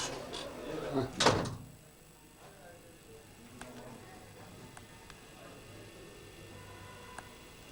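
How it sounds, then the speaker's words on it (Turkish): A door closing in a shop, heard as a loud thump and rattle near the start with a few faint clicks after, over quiet room noise. "Kapıyı örtelim o halini çek."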